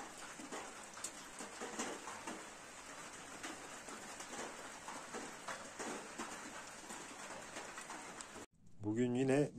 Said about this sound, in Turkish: Şöyle hafiften yağmur başladı.